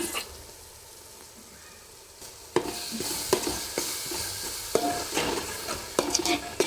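A spoon stirs spice masala with turmeric, chili powder and yogurt in a pan: quiet at first, then a string of scraping, clinking strokes over a soft sizzle, close and fairly loud.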